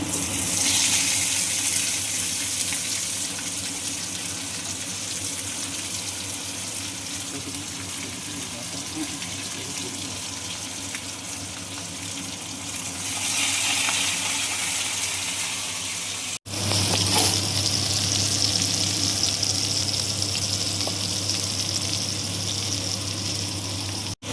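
Chicken fries in sunflower oil in a pressure cooker pan, giving a steady, close hiss and sizzle that carries on for the whole stretch, swelling briefly and rising again after a short break.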